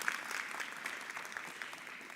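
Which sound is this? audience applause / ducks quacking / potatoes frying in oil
audience applause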